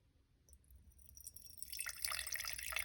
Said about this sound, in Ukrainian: вливаємо сюди 50 грам води